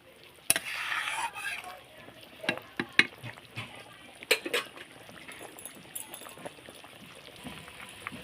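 Fish curry (macher jhol) being stirred in a pot just after lentil dumplings (bori) go in, with a soft bubbling simmer, scattered scraping knocks of the spoon and a brief louder clatter near the start.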